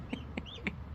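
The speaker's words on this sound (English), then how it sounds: "It's my mom's favorite rooster." A rooster on a home farm gives three short, clear clucks at an even pace, close to the microphone, over a steady low outdoor background hum, with no talking.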